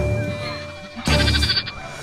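A sheep lets out one loud, near bleat lasting about half a second, rising abruptly over a low steady hum.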